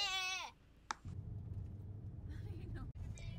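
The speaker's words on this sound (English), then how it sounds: "we saw some cool goats." Goats bleating on a roadside in rural Ireland, a loud wavering bleat at the start and fainter calls later, over steady car engine rumble from inside a moving vehicle.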